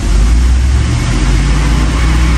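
A Ford Ranger engine held at a steady rev of around 2,000 to 2,500 RPM in a service shop gives a loud, constant low drone, close by, with no voices.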